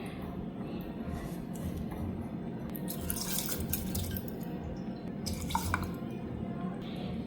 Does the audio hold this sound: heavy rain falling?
no